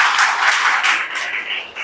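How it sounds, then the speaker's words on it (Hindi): A congregation at a Hindi-language church service breaks into a brief, loud burst of dense applause. "ताली बजाकर प्रभु का धन्यवाद।"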